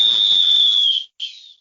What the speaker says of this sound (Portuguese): Apito final no Boleirão de hoje.